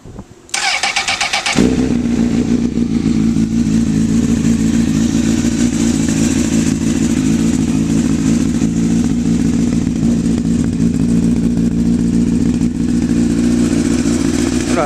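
Honda CBR1000RR motorcycle with a Micron slip-on exhaust, starting up after a brief whir, then settling into a loud, steady, rumbling idle close by and uninterrupted.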